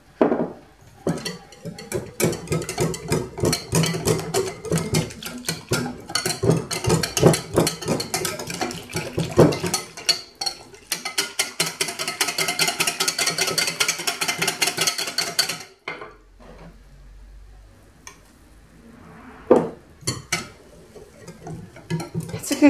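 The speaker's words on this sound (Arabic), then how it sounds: "غادي نبدا نضيف الدقيق بشويه بشويه في نفس الوقت كنخلط" Water and flour stirred together in a bowl for a no-knead liquid pizza batter, with a steady, rapid clatter of a utensil scraping and clinking against the bowl that stops abruptly, followed by a few scattered taps.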